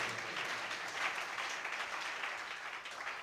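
A church congregation applauds during a sermon, a steady, dense wash of clapping from many hands that holds for several seconds without pause or talk.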